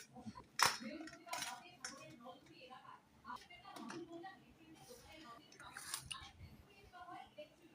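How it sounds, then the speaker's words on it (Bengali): Rice is served onto plates in a home kitchen, with soft clinks and scrapes of a spoon against dishes, quiet and close, with someone talking throughout. "ভাত বাড়ছি, খেতে দেবো"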